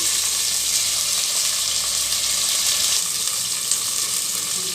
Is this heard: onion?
yes